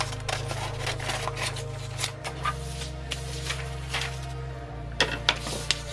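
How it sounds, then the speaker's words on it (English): Paper doll sock sewing pattern pieces are cut out with scissors, giving soft, repeated snipping and paper rustling close by over a steady low background hum, with a few sharper snips near the end. "I'm just cutting that pattern out."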